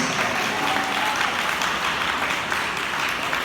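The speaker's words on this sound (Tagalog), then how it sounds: "Clap your hands, all ye people" A church crusade congregation claps hands in praise in a dense, loud, continuous burst of clapping that fills the whole stretch with no speech over it.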